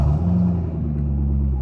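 Steady low rumble of a car engine idling with the motor running, close and continuous with no talk over it.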